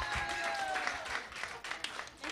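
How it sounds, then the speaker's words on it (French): Audience at a live stage show applauding after a host's call, a short burst of dense clapping with some crowd noise, brief whistle-like tones in the mix. "On applaudit très fort, mesdames et messieurs."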